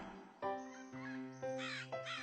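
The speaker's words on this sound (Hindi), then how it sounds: "कुछ घंटों बाद कौवा अपने घोंसले के पास लौटा।" A crow caws several times in quick succession, loud and harsh, with each rough call separated by a brief gap. The calls serve as a sound effect in a children's story about a crow and a snake.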